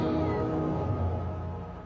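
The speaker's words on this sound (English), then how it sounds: "Oh, it's a cat." A cat meows in one drawn-out, wavering call that fades toward the end, fairly close and clear with no talking over it.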